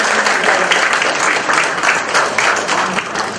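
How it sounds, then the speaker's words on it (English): Dense, steady applause from a classroom audience at a communication talk, many hands clapping together at an even level for a few seconds with no voices over it. "Can we have a round of applause?"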